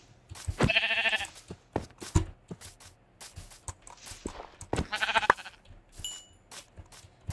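Sheep bleat in a couple of loud, wavering calls on a farm, with scattered knocks, shuffling and hoof-like steps between them and quiet gaps.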